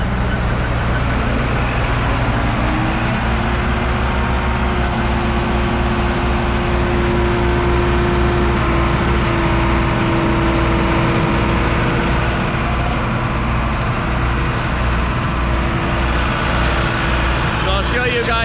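A topsoil screening machine's engine runs loud and steady at a screening site, a constant diesel-like drone with a sustained tonal whine, while someone talks over it.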